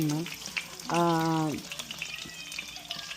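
Food frying in avocado oil gives a close, crackling sizzle with a brief rising, voice-like whine over it midway, then steady popping and hissing.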